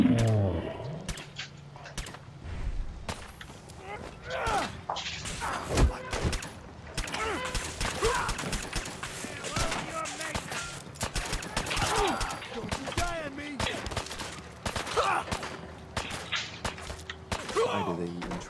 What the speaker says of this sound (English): Let's shoot a few times in the head.